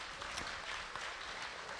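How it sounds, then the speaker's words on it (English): A crowd applauding the swine show winners at a state fair, steady even clapping from many hands, faint and distant throughout. "Let's give them a round of applause"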